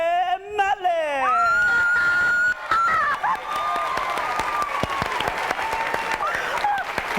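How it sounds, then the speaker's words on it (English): A game show studio audience breaks into loud applause and cheering for contestant Molly, right after a host's raised voice; sustained clapping runs under whoops and a high, sliding shout. "A big round of applause for Molly."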